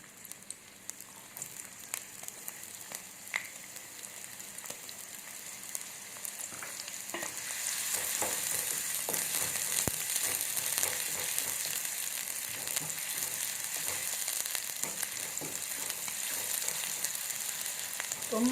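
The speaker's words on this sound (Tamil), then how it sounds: "இப்போ பொடியாக நறுக்கி வச்ச வெங்காயம் சேர்த்துக்கலாங்க." Chopped onion hits hot oil in a kadai pan, sizzling and frying as a steady broadband hiss that swells after the first few seconds and holds at a loud, even level with occasional stirring clicks.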